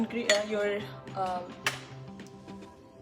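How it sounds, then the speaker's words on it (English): A stone cooking pot is handled in a kitchen while making pav bhaji, giving a few light clinks and knocks with a ringing tone under continuous talk. "I'm going to use the stone pot today"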